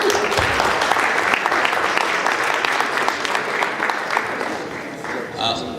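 A room of diners at a university Muslim student association annual dinner gives a round of applause for award recipients, a dense steady clapping that fades slightly near the end, with some murmured voices underneath.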